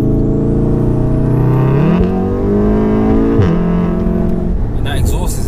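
A 600 bhp VW Golf R with turbo and a loud Buildtech exhaust revs hard, its engine note climbing and holding at close range, with talk over it.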